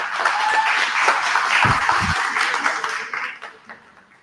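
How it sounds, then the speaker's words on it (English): An audience at a live community stage event claps for a few seconds and the applause fades toward the end, with some voices mixed in. "Let's give them one more round of applause as they get on up here."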